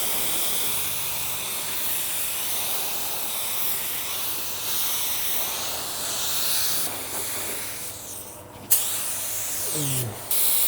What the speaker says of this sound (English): Oh, the gun sprays great.